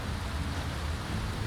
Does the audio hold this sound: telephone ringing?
no